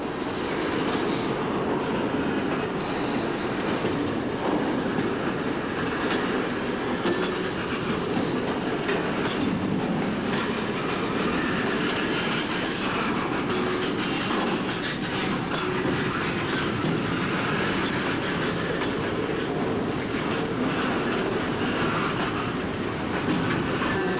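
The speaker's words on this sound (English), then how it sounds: "Train's doing 50 at high def." A CSX freight train rolls steadily past nearby at about 50, a loud continuous rumble with rhythmic clickety-clack of wheels on rails throughout, no voices.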